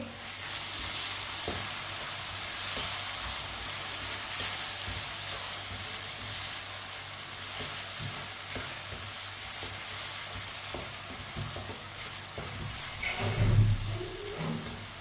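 Chopped tomatoes and crushed green chili stir-fried in a pan with a spoon for a potato dish, a continuous close sizzle with light scraping stirs and a brief louder clatter near the end, no voices.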